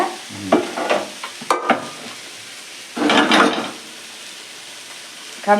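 Banana flower sautéing in a pan at close range, with intermittent scraping stirs and short bursts of soft sizzling separated by quieter pauses.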